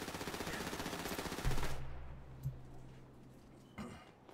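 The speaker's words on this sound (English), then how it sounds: "Bro, he's shooting through the wall, cuz." Rapid automatic gunfire in a GTA roleplay game, a loud fast-rattling burst that stops abruptly, followed by a couple of isolated sharp shots against a low lingering hum.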